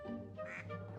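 Ducks quacking in the video game Blue Toad Murder Files: The Mysteries of Little Riddle, a short burst of nasal, honking quacks, fairly quiet, lasting about a second with no talk.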